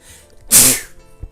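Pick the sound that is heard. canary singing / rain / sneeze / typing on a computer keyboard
sneeze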